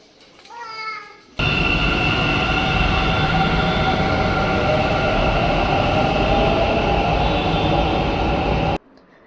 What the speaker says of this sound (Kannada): ಇಂದಿರಾನಗರ್ ಮೆಟ್ರೋ ಸ್ಟೇಷನ್ಗೆ ಬಂದೆ.